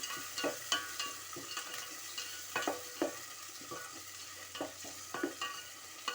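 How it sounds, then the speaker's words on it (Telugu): Thinly sliced large onion frying in a pan for egg dum biryani, a steady broadband sizzle with repeated stirring scrapes and clinks at an irregular pace, close and moderately loud, with no voices. "ఒక పెద్ద సైజు ఆనియన్ సన్నగా తరిగి వేసుకోవాలండి బాగా ఎర్రగా బాగా బ్రౌన్ షేప్లో రావాలి"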